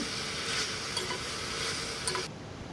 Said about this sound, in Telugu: గోంగూర అంతా కూడా ఇలా వేసుకొని దగ్గర పడేంత వరకు మగ్గించుకోవాలి